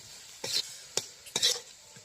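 Onion and chili fry in a pan under a faint sizzle, broken by a few sharp spatula scrapes and stirs close by, loud against a quiet background.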